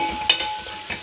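Onions frying in a pan for a Kerala duck roast give a steady close sizzle, with a couple of brief scraping stirs standing out over the hiss.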